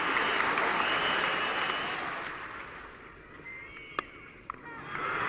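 A cricket crowd at a 1976 England v West Indies Test match applauds a hooked shot: a broad wash of clapping from a distant stadium audience that swells at first and then fades over a few seconds.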